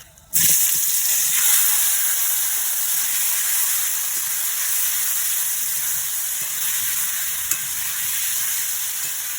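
Chicken pieces drop into a hot pan for Bengali chicken kosha, setting off a sudden loud, steady sizzle and hiss that holds close and even for several seconds, with faint stirring clicks and no talk.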